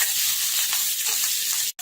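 Cumin seeds, a pinch of asafoetida, ginger-garlic paste and long-sliced green chillies sizzle loudly and steadily in hot oil, a close, bright frying hiss with a brief break near the end.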